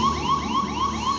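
A repeating electronic alarm tone, presented as the Apollo lunar module computer's 1202 program alarm, sweeps and pulses in a fast, steady rhythm, loud and close, with no talk.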